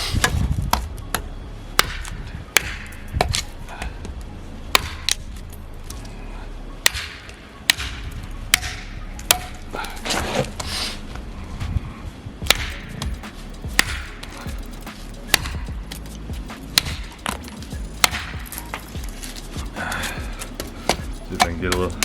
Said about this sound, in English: Start with the chop test.